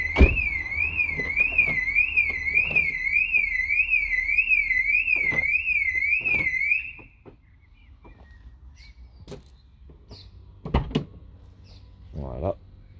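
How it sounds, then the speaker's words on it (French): Factory alarm on a Mercedes V 220 (W638) van blares a loud, warbling two-tone electronic siren for about seven seconds, then cuts off, leaving quiet clicks, a few knocks and faint background sound. "C'est un peu chiant cette alarme, hein, j'avoue."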